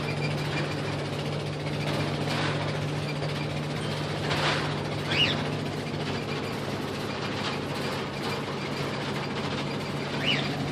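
Camper vehicle with a loud engine badly in need of a muffler, a steady droning rumble with a constant low hum and rattling mechanical clatter throughout, fairly close and unbroken, no voices.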